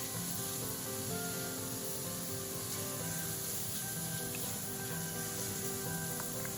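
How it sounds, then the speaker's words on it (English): Minced garlic stir-frying in hot vegetable oil over high heat, giving a steady, close sizzle and crackle that runs unbroken throughout with no talking. "Then add in 1 teaspoon of minced garlic and stir fry for 1 minute."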